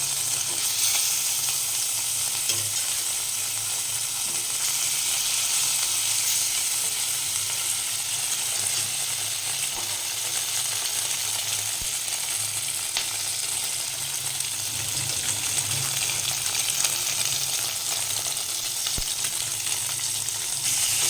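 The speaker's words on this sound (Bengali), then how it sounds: "তেলটা ভালো মতো গরম হয়ে যাওয়ার পর দিয়ে দিচ্ছি মাছগুলো ভেজে নেব" Rohu fish pieces frying in hot refined oil in a kadai, a steady dense sizzle and crackle running continuously and fairly loud throughout, with no voices.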